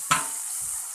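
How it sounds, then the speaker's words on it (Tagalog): Onion, garlic and tomato sauté in soy sauce in a pan for Filipino ginisang pakbet, opening with a sharp hit of sizzle or stirring that settles into a steady, quiet frying hiss. "Ginigisa po natin sa toyo ang sibuyas, bawang at saka kamatis"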